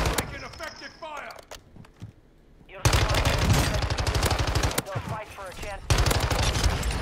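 Gunfire in the video game Warzone, rapid automatic bursts rattling loud and close, broken by a brief quieter stretch, with voices talking over the shooting.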